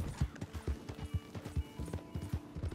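Horse hooves clip-clopping in Red Dead Redemption 2, a steady, fairly close rhythm of distinct hoof strikes with no talk over them.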